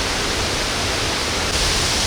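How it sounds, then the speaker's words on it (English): A high-flow waterfall throwing off wind-driven mist on the Bolaven Plateau roars as a dense, unbroken wash of water noise, loud and close, with no other sound breaking through. "with the high flow of water coming off the waterfall is a lot of wind mist"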